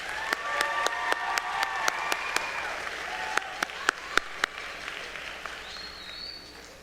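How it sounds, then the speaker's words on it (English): Audience applause fills a junior high spring band concert hall, a steady wash of clapping with a few sharp individual claps standing out, fading gradually toward the end. "Please give them one more round of applause."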